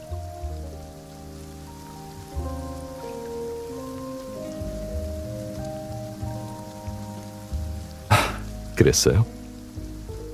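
Rain falls steadily in a Korean dating-sim video game, a soft continuous patter under gentle background music, with a short spoken line and a couple of louder splashy bursts near the end.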